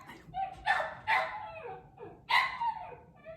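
A dog barks and yips several times in quick, uneven bursts, fairly close, sounding slightly whiny.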